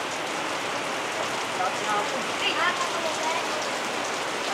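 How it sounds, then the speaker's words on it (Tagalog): Heavy rain pours steadily in a dense, hissing roar, drumming on a surface close by, with a few faint chirps barely audible underneath. "Ayun, ang lakas ng ulan, no?"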